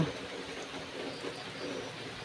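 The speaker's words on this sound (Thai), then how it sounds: "โอ้ยฝนกันละ" Rain falls steadily in a forest during a storm, a faint, even hiss that continues without break.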